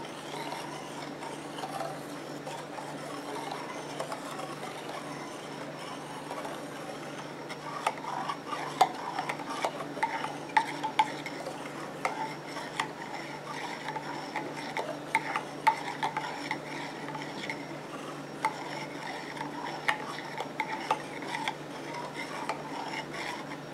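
A homemade liquid shampoo mixture stirred in a container, heard as soft, continuous rubbing and scraping strokes with occasional light clinks, fairly faint and close.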